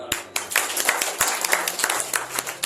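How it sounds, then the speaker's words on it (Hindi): Audience at an RCM business meeting clapping, a near burst of many hands with sharp individual claps standing out, loud at first and slightly uneven in rhythm. "बहुत अच्छी बात, तालियां।"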